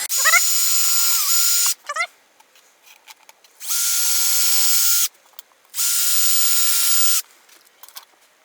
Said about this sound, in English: this is the oldest cordless screwdriver ever made